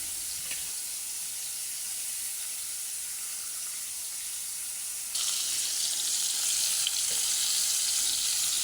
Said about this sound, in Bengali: তেলটা গরম হয়ে গেছে, এখন দিয়ে দিব সবগুলো একসাথেই দিয়ে দিব